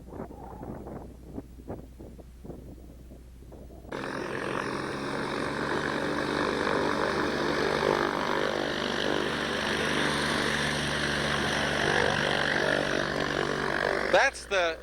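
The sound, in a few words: jump plane for skydivers flying near ultralight airfield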